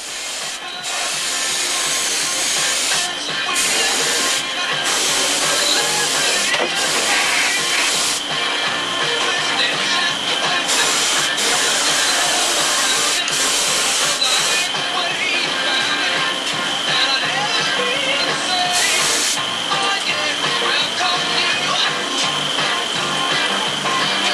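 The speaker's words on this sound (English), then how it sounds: "I'm using the shop vac again as an air pump to blow some of this the fumes out of here." Shop vac run in reverse as an air pump, blowing fumes out of an enclosed space, gives a loud, steady airy rush with a hiss that holds constant throughout, with no voices.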